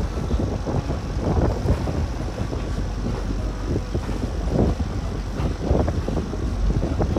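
A speed boat engine drones out at sea off San Diego, a continuous low rumble mixed with heavy wind buffeting and water rush.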